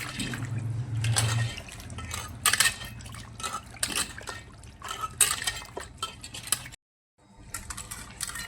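Steady sloshing and splashing of water in a bowl with occasional clinks, continuous handling close by, with a brief silent gap near the end.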